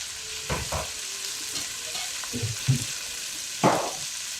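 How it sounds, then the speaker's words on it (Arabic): Whole spices and white pepper toasting in a hot pan, with soft crackles and a few sharper pops and stirring scrapes against a steady faint sizzle, fairly quiet and without talk. "ونحمس. خليه ياخذ حقه بالحمس."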